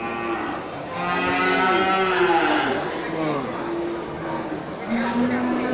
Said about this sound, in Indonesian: ini sapi jantan ya, dari jenis sapi Aceh